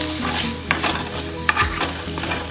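Chicken gizzards and heart frying in a pan, a steady close sizzle broken by a few sharp clinks and scrapes of a spoon stirring the meat.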